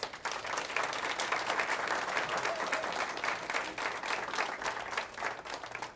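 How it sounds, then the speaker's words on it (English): Sustained applause from a crowd at a school end-of-year celebration, many hands clapping densely and evenly throughout, fairly loud and without a break. "Everybody give him a round of applause."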